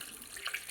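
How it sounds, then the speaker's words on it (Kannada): Tap water runs over fish being washed in a sink, a soft, faint steady trickle with a brief brighter splash. "ಇದನ್ನು ನೀರು ಹಾಕಿ ತೊಳ್ಕೊರ್ನಂತ"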